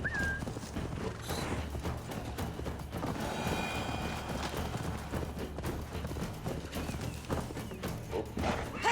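Horse hooves clop steadily under game ambience in Assassin's Creed Valhalla, a faint continuous trotting rhythm with a brief whinny-like sound near the start and no speech.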